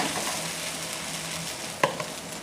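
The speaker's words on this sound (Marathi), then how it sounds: "या ठिकाणी अशा प्रकारे डोस्याचं सारण टाकून घ्यायचं तव्यावर" Moong dosa batter sizzles on an oiled hot griddle, a steady crackling fry with one brief clink of utensil near the end.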